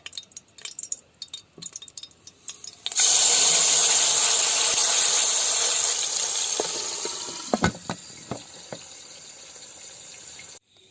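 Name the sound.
chicken placed in hot oil in pressure cooker, sizzling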